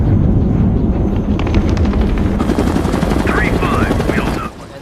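A helicopter's rotor thumps in a loud, rapid rhythm close by, with voices calling out over the noise, in a scene from the 2017 film The Wall.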